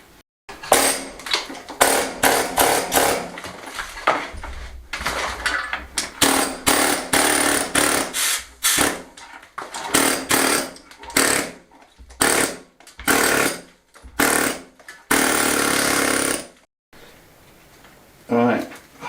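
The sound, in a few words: air hammer chipping stone off an old bread oven front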